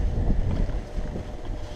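Blustery wind buffeting the microphone at a roadside campsite in Taiwan, a dense low rumble with gusty swells through a short stretch, near and fairly loud with no talking.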